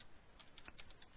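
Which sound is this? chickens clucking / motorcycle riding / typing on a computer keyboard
typing on a computer keyboard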